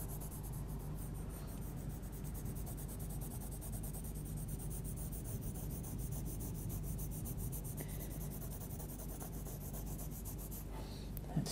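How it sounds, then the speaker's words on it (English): A Derwent pencil held on its side rubs gently over embossed paper, giving a soft, steady, scratchy rasp that continues quietly and evenly throughout, with no talking. "with a pencil on its side, I'm just going to start rubbing gently over the top"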